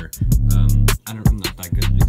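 Punchy compressed kick drum from an FL Studio beat, repeating hits with strong low-end thump among other loud beat elements, several strikes close together with brief gaps.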